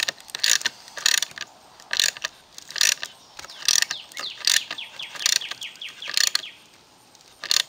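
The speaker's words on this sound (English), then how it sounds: "my ratchet, and crank that T-nut sleeve into place" A hand ratchet cranks a T-nut sleeve into a wooden model-railway module, rapid bursts of clicking pawl in a repeated rhythm of about eight strokes, close and clear.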